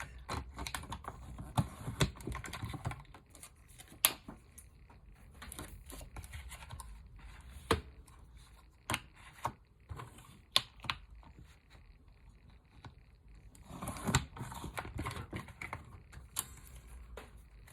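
Scissors snipping along the sides of a paper cash envelope, a long run of small crisp cuts and clicks up close, irregular in rhythm with short pauses and no talking.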